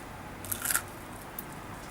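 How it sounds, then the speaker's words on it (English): A few quick crisp crunches, like a bite into fried food, close by and brief against a quiet background. "Hear that crunch?"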